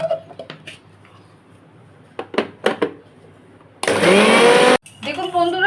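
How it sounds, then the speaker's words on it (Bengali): A kitchen mixer grinder whirs loudly for about a second as it grinds black and yellow mustard seeds with green chillies and a little water into a paste, after some clinks of utensils, with a voice talking briefly around it. "আমি এখানে দেখুন মিক্সিটাই করছি। সেটা কালো সর্ষে আর হলুদ সর্ষেটা আমার একটু গুঁড়িয়ে নিয়েছি।"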